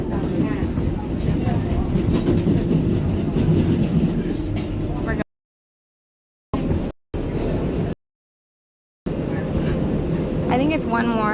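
A New York City subway train runs through Queens toward an underwater tunnel, its loud rumbling rattle and clatter continuing under people talking, with brief gaps of silence cut into the middle.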